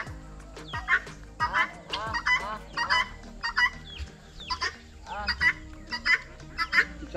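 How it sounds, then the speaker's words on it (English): Ducks and other farm fowl call out at feeding time, a busy run of repeated honks and clucks in short bursts, fairly close and fairly loud. "Ducks are coming, see?"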